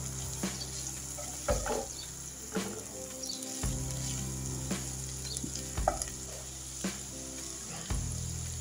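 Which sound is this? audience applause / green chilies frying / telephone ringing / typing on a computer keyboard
green chilies frying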